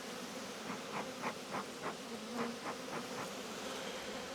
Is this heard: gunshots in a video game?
no